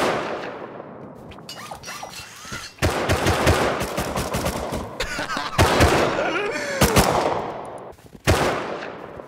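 Gunfire in the survival game Rust comes in loud, close bursts of rapid automatic shots separated by brief pauses, with a few single cracks near the end.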